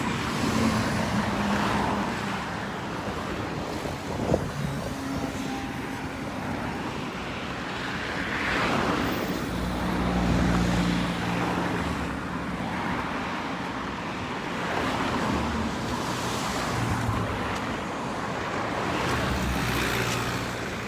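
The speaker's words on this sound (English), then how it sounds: "A lot of traffic now on the East Bank Bypass Road, that is the Heroes Highway" Steady roadway traffic flows along the East Bank Bypass Road, Heroes Highway, heading toward Georgetown, a continuous moderate wash of passing vehicles with occasional louder passes and no voices.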